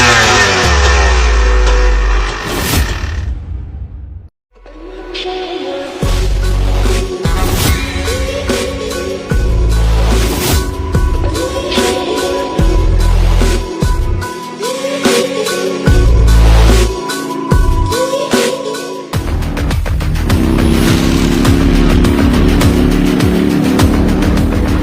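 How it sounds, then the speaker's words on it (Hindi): A fast-ridden motorbike roars throughout, its engine revving and droning loudly with repeated rises and shifts in pitch, broken by one brief near-silent dip early on, with music-like tonal layers woven through the noise. "मैं बाइक बहुत तेज चलाता हूँ"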